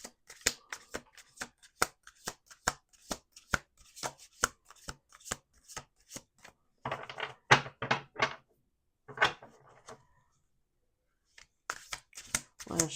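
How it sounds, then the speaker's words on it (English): Tarot cards are shuffled by hand in quick, crisp riffles, a rapid series of sharp flicks followed by a few denser bursts of shuffling with short pauses between, close and clear with no talking. "Let's do 2 more shuffles."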